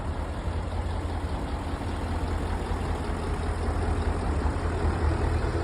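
A heavy tractor engine idles steadily nearby at a farm base, a constant low rumble that grows slightly louder toward the end, with no talking.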